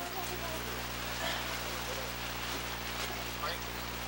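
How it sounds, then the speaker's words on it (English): Steady rain pours at an outdoor women's final between Western and Queens, a dense even hiss filling the background while people talk faintly nearby. "rain's starting to come down a bit more"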